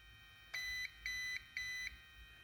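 An RC car transmitter for a Typhon Grom BLX gives three short, evenly spaced electronic beeps while its gyro level is set. The beeps are clear and equal in length against a quiet background.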